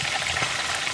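Food cooking in a pot of water in an African kitchen gives a continuous soft bubbling sizzle, close and even, with faint scraping of a spoon stirring through it.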